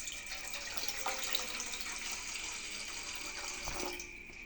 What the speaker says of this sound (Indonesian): taruh panci di atas kompor, lalu masukkan air